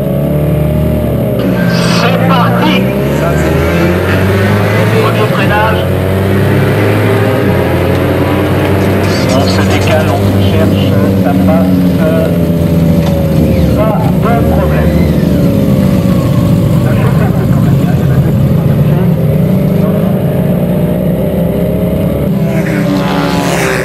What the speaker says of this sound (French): je roule avec mon épouse Margot depuis 4 ans maintenant, en sidecar avec un BMW châssis d'agresseur, 930 cm3.